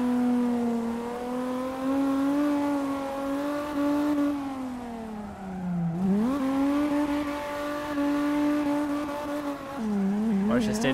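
Drift car in the CarX Drift Racing game, engine revving hard and wavering in pitch through a long slide, dipping briefly midway before climbing again, with tire squeal and a voice talking over it.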